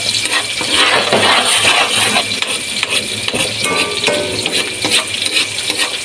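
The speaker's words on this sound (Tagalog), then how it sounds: "nilagay na po yung bawang at sibuyas. Oh. Yan, haluin po natin." Garlic and onion fry in a pan for pork afritada, a dense crackling sizzle broken by metal ladle scrapes and clinks as the mixture is stirred.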